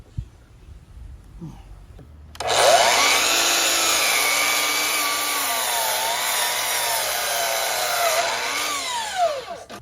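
A quiet pause, then a power saw starts and cuts through a deck board with a loud, sustained whine that rises and dips as it bites.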